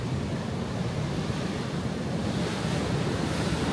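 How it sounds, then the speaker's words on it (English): Sea waves wash onto a beach on the Norfolk coast, a steady broad roar of surf with wind buffeting the microphone throughout, loud and close with no speech. "the sea is giving us all its kind of majesty and everything else"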